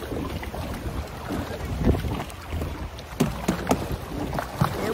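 Small boat paddled through ocean water off Princess Cays in the Bahamas, with scattered splashes and strokes over steady wind rumble buffeting the microphone.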